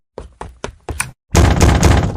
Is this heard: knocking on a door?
yes